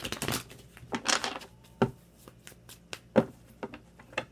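Tarot cards being shuffled by hand: quick riffling bursts followed by a few sharp taps and soft flicks, close and fairly quiet.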